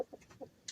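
Bantam hens in a coop give a few soft, brief clucks and chirps at close range, with one higher squeak at the end, each call short and separate against a quiet background.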